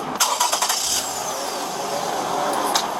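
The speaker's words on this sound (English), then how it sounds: "Just want to turn the car on real fast" A car engine cranks with a quick burst of starter chatter and then catches, settling into a steady idle heard from inside the car.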